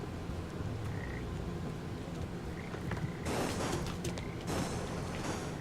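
Frogs croak in the Papo & Yo video game, set against a steady ambient bed that grows denser and brighter in its second half, with no talking.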